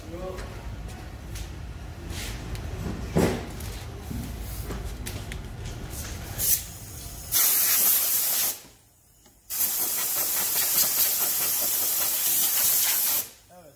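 Loud, steady bursts of compressed air hiss during routine servicing of a BMW F33 420i xDrive, two long blasts separated by a brief pause, with workshop voices talking beforehand.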